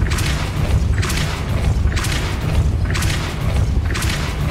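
Depulso force spells in Hogwarts Legacy strike in a regular series of five heavy, punchy bursts about a second apart, each a loud whooshing thump over a constant rumbling background.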